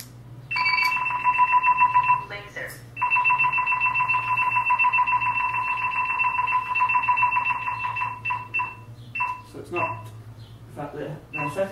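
An Escort Redline radar detector sounds a laser alert, a loud, continuous electronic beeping tone that runs steadily for several seconds, pauses briefly, then resumes before cutting off as a voice follows.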